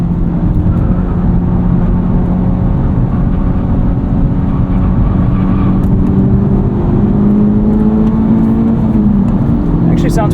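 Exhaust of a 2023 Honda Civic Type R with the front resonator deleted, a steady droning engine note rising and falling through revs, loud and continuous from the driver's seat, with faint talk mixed in.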